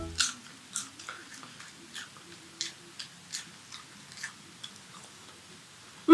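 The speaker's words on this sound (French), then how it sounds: "C'est bon, ça croustille. Vous entendez le croustillant?" Crisp crunches of French fries being bitten and chewed, about a dozen short crackly bites spaced irregularly, close to the mic and otherwise quiet, ending in a louder burst.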